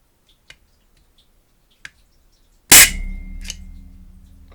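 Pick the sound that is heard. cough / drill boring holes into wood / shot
shot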